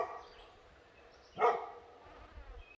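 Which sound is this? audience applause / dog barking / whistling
dog barking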